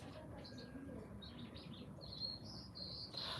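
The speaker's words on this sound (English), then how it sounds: "The birds are so nice." Birds chirp and sing outdoors on a sunny day, a series of faint, high, short tweets and trills spread over a soft background hush, growing a little busier toward the end.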